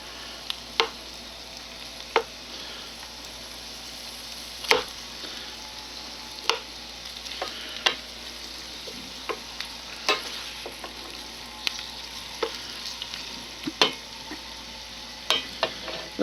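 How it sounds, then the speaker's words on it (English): Onions fry and brown in a pan with a steady low sizzle, punctuated every second or two by sharp clicks and taps of a utensil against the pan. "my onions are starting to brown up a little bit"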